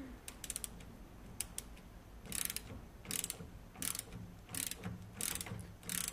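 Spanner ratcheting on a muck spreader flail nut, quick bursts of clicking pawl turns repeated in short strokes, close but fairly quiet, no talking.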